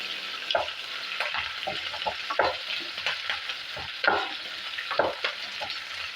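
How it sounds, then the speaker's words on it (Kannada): Chopped capsicum fries in oil in a pan for bisi bele bath, a steady sizzle broken by repeated scrapes and taps as a spoon stirs, close and continuous. "ಇದು ಸ್ವಲ್ಪ ಎಣ್ಣೆಯಲ್ಲಿ ಚೆನ್ನಾಗಿ ಫ್ರೈ ಆಗಲಿ."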